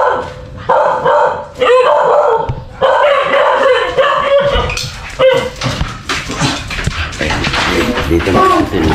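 Several dogs barking repeatedly at a house as a visitor arrives, loud and close, with rapid overlapping barks and yips while people talk in the background.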